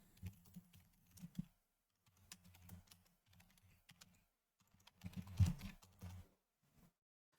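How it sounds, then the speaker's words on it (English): Someone types on a computer keyboard at close range. Fast clusters of light key clicks arrive in short bursts separated by brief pauses, with a louder flurry near the end. "I'm going to type this out one more time"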